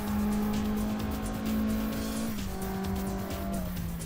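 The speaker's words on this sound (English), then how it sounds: "Let's take a trip around this track in a fantastic Civic Type R FK8." Honda Civic Type R FK8 lapping a track in Assetto Corsa, a loud steady engine drone with tire squeal and a gear shift midway, close and continuous with no talk.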